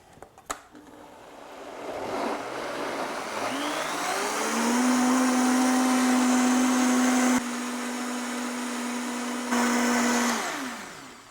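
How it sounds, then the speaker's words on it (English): A blender purees tomato soup made from vine-ripened tomatoes, spinning up from a start into a steady, loud whirring drone with a sustained pitch, then winding down near the end. "we've been pureeing this for a few minutes now"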